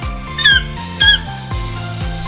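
A toucan gives a short series of croaking, squawking calls, about five rhythmic pulses with a couple of louder squeaky notes, close and clear.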